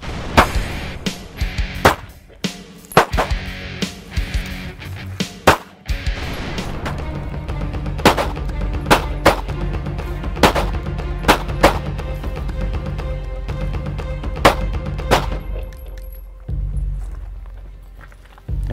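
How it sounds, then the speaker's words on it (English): Handgun shots ring out against steel plates on an outdoor shooting range, loud sharp cracks in an irregular string of a dozen or more, some in quick pairs, with lighter clanks and movement between them. "you must shoot the white plate to flip it"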